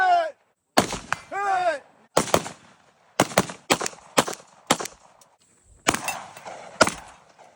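Gunfire at a 3-gun shooting competition: a string of sharp, loud shots fired in quick irregular bursts with brief gaps, close to the recorder, with a short voice-like sound near the start.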